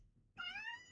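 A house cat meows once, a clear, rising and drawn-out cry that starts abruptly after a quiet moment and holds near and fairly loud until the end.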